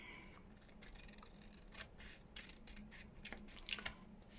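Small scissors snipping off paper craft tags, a few quiet close clicks and crisp cuts in a hushed room.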